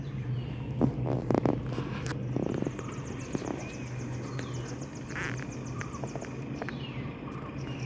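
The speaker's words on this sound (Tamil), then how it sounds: "பாருங்க இந்த பறவைகள்லாம் ஏதோ சத்தம் போடுது பயங்கரமா, என்னன்னு தெரியல." Birds calling in a forest: repeated loud squawking, quacking-like calls scattered across the stretch, some close and some farther off, over a steady low hum.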